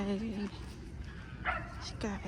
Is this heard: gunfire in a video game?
no